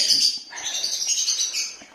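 Young chicks being hand-fed chirp with high, thin, insistent cheeping calls, close and fairly loud, in overlapping bursts with short dips between them.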